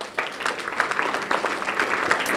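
Applause from the crowd at a Hispanic Week committee gathering in Lawrence, a dense patter of many hands clapping steadily, fairly loud and close, with no voices over it.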